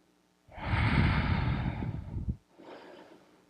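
Deep yoga breath during a flow class, a long loud exhale through the mouth lasting about two seconds, followed by a softer, quieter breath.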